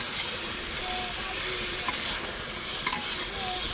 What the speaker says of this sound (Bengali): আলুর সাথে টমেটোটার সাথে ভালো করে কষিয়ে নিতে হবে